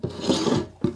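Stanley No. 62 low angle hand plane shaving across a glued-up wooden workbench top, a close rasping stroke that runs most of the second, a brief pause, then the start of another pass.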